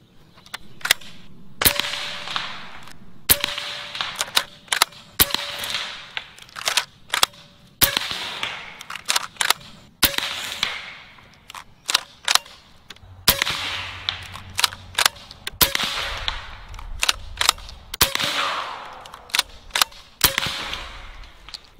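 AEA Megalodon pump-action air rifle firing slugs, a steady series of sharp, loud cracks each followed by the clack of the pump, repeating at a regular pace through a full magazine with no talk.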